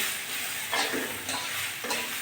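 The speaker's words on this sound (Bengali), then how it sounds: "আমি আর একটুখানি কষিয়ে নেব" Rice and lentils for khichuri sauté in a wok, giving a soft steady sizzle broken by three scraping stirs of a spoon, close and fairly quiet, with no talking.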